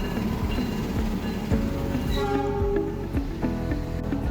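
Steady rumble and rattle inside the Lodaya passenger train in Indonesia, a continuous loud rolling drone with faint clicks and tonal squeals from the wheels, no talking.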